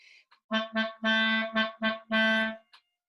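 A woodwind sounds a steady held B in six short tongued bursts with brief gaps between them, clear and fairly close, no talking.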